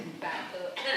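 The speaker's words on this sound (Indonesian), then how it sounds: "Batuk." Someone coughs a few short times in quick succession at a high school reunion gathering. The coughs are close and fairly quiet, with some soft background noise.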